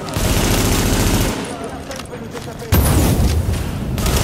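Gunfire rattles in the video game Tom Clancy's The Division, with dense bursts of automatic fire, a lull, then another loud burst of shots close by, and someone talking over parts of it.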